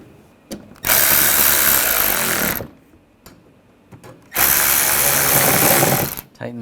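A power tool drives screws into a 2009–2010 BMW 535i xDrive front bumper cover in two long, steady whirring bursts, each about two seconds, separated by quiet handling noises.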